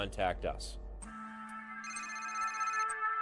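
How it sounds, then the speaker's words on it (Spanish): A mobile phone rings with a bright, repeating electronic ringtone that starts just after a brief burst of voice, then holds steady and moderately loud. "Suena el móvil de Lenny John"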